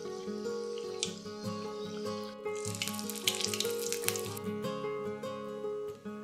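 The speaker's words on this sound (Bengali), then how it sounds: "এরপর এগুলোকে কম আঁচে একটু ধৈর্য ধরে সময় নিয়ে ভাজতে হবে ক্রিসপিনেসের জন্য।" Chicken and cheese bread rolls deep-fry slowly in oil over low heat, a steady crackling sizzle that briefly swells in the middle, heard beneath prominent background music.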